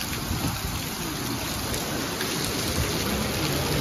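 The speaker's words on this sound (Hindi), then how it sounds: "क्या बरसात हो रही है।" The season's first heavy rainfall pours down as an unbroken, close, even roar of drops hitting surfaces, loud and constant from start to finish with nobody speaking.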